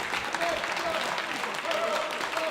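Squash match crowd applauding in a steady, moderately loud patter of claps that runs throughout, with faint voices mixed in.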